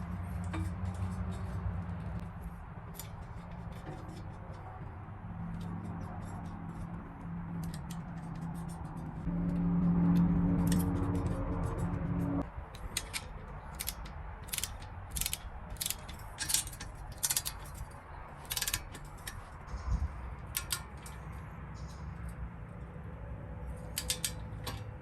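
Torque wrench set to 18 foot-pounds tightening windage tray bolts on an F-body oil pan for a 5.3 LM7 engine; after a low mechanical hum, rapid bursts of ratchet clicks repeat close by.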